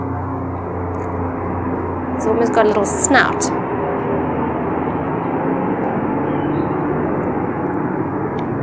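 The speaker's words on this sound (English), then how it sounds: "Oh, there's a lovely aeroplane going over." An aeroplane passes overhead outdoors, a steady broad engine roar that holds throughout while a person talks nearby.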